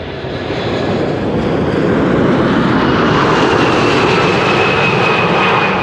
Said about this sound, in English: Singapore Airlines cargo arriving for Sharjah.